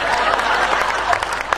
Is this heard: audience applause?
yes